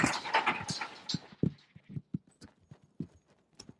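Hooves of an unhandled two-year-old quarter horse stud strike ground on a Northern California ranch, a loose run of close, irregular clops after a louder, busier opening.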